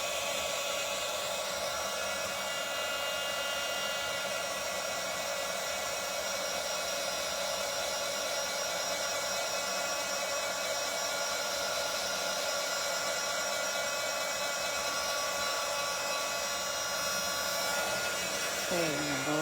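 A hair dryer blows steadily to dry off wet chair parts being repurposed, a continuous airy whir that holds nearly level for the whole stretch, with a slight shift in pitch near the end.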